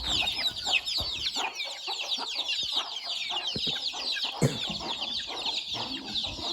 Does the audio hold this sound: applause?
no